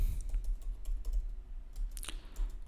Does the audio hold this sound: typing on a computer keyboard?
yes